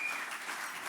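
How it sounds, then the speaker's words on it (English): Audience applause at an evening performance by the Indigenous Enterprise dance group, a steady dense wash of many hands clapping that holds evenly throughout. "give them a big round of applause"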